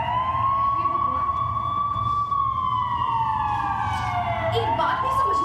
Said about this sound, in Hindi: जब भी ऐसे एम्बुलेंस वैन और पुलिस वैन की आवाज सुनते हैं